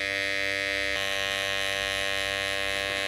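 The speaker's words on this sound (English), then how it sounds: "I'm now going to use my detailer clipper. This gives a very close cut, just to shape" Electric detailer hair clipper shaping a hairline during a traditional haircut, giving a steady, close, high-pitched motor buzz with a slight shift in tone about a second in, running continuously with no speech.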